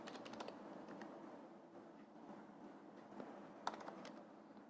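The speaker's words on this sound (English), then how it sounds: "So from there I am typing all the data." Faint clicking of typing on a computer keyboard while entering data into an Excel form, quick keystroke clusters and scattered taps over a quiet hiss.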